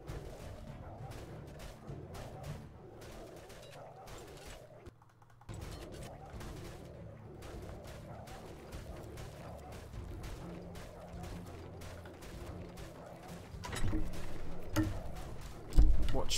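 Cannons fire from a tower in the game ATLAS, sounding as a run of repeated sharp booms and cracks over a steady low background rumble, with heavier, louder blasts near the end.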